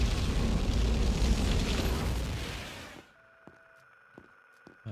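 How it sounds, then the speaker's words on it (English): A flamethrower in the video game ADACA unleashes a loud, roaring broadband blast for about three seconds, then cuts off abruptly, leaving near silence with a few faint clicks and tones. "With the flamethrower, it is actually quite powerful"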